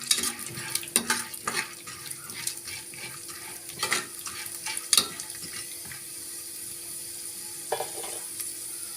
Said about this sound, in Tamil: கடலை பருப்பு நல்லா செவக்க வறுத்துக்கலாம்.